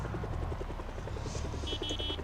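Helicopter flying overhead in Project Zomboid, a steady rhythmic rotor thumping that stays loud and close throughout, with a faint tone chiming near the end.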